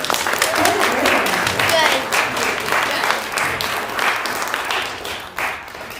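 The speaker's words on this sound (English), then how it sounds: "One more round of applause for our" A congregation at a fourth-grade family Shabbat service breaks into warm, sustained applause, loud and close, with some voices mixed in under the clapping.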